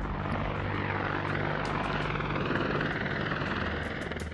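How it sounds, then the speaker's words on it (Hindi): Military attack helicopters such as Apaches at a forward air base in eastern Ladakh: steady, loud rotor and turbine roar with rapid blade chop, continuous throughout and close by, with no talking. "अमेरिकी अपाचे हेलीकॉप्टरों को उन क्षेत्रों के करीब तैनात किया गया है"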